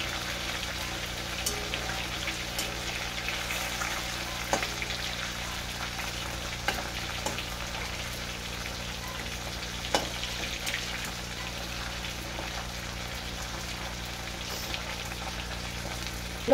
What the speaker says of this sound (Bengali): বেশি কড়া করে ভাজবো না মাছগুলো, হালকা হালকা করে ভেজে নেবো।